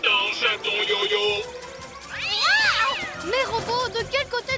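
A cartoon kitten from the French animated series Pyjamasques meows in several rising and falling cries over background music and effects, with a bright tone sounding early on.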